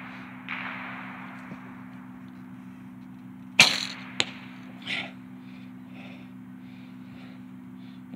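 A single sharp snap and whoosh of an arrow shot from a bow without sights at a shooting range, with a short thud after, over a steady low outdoor hum.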